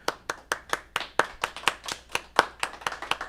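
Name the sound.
applause track sound effect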